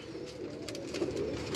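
Pigeons coo softly and continuously on a rooftop in Karachi, a low steady murmur of several birds close by.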